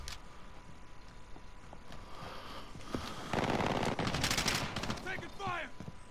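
Gunfire in the video game Call of Duty: Modern Warfare, with scattered single shots followed by a dense automatic burst and rattling volleys, loud and close amid game effects.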